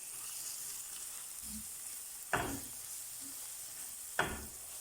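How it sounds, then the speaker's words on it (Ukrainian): Quiet, constant sizzle of onions frying with curry seasoning and tomato paste in a pan, broken by two sharper scraping stirs a couple of seconds apart. "Підсмажуємо цибульку з приправами 2-3 хвилинки."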